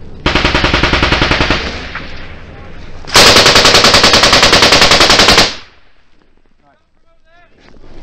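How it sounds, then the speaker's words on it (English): Heavy automatic gunfire in a combat ambush in Afghanistan, with US soldiers under attack: two long, loud bursts of rapid machine-gun fire, the second harsher and denser, followed by quieter scattered sounds. "The fucking rounds are coming in right here."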